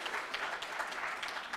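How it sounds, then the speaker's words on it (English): A lecture audience gives gentle applause, a soft and steady patter of many hands clapping together for a brief moment, with no voices over it. "Some gentle applause."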